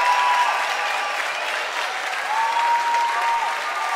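Live concert crowd in Berlin cheering and applauding: dense steady clapping with shouts and whistles from a large audience, filling the space continuously.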